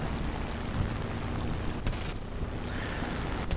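Cannon fire from a low-tier French tank in a tank battle video game, heavy booming shots and rumble amid continuous battle noise, with a couple of sharp blasts late in the clip.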